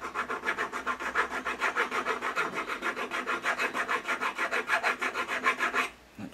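Hand file rasping on a model railway switch blade held in a Finetrax filing jig, steady rhythmic back-and-forth strokes, about five per second, close and clear, with no voice, ending abruptly.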